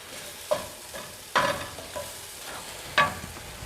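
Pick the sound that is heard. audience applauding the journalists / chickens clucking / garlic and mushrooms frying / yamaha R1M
garlic and mushrooms frying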